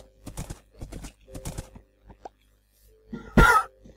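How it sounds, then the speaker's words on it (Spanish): A horse in the Minecraft video game gives a short, sharp snort or whinny near the end, after several seconds of quiet speech and scattered small clicks. "vamos a coger el caballo del muerto"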